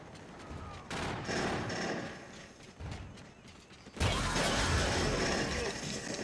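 Automatic gunfire in the video game Call of Duty: Infinite Warfare, Gun Game mode, rapid rattling bursts at moderate volume, a short burst early and a sustained louder volley in the final seconds.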